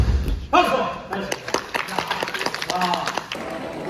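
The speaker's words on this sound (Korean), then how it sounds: "박수!" A group claps sharply at a judo kata training session for kime-no-kata, a quick run of close, distinct claps and slaps with a few thuds, mixed with brief voices nearby.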